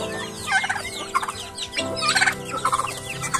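Turkeys in a backyard farm pen gobble in rapid, rattling bursts, several calls overlapping close by, with a low steady hum behind them and no talking.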